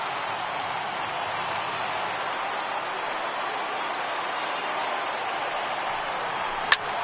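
A broad stadium crowd roar in the baseball video game MLB The Show 18, a steady wash of cheering that holds evenly throughout with one sharp crack near the end.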